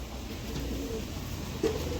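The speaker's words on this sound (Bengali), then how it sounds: "দেখো কত সুন্দর সুন্দর কোয়ালিটির দেশি পায়রা রেখে দিয়েছে" Domestic pigeons of a local breed kept in a loft coo softly and continuously for two seconds, a low murmuring burble with one slightly louder note near the end.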